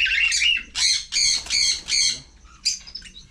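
Lovebirds at a farm resort in San Juan, Batangas give a run of five loud, harsh, rhythmic squawks close by, then a few shorter, quieter calls trail off at the end.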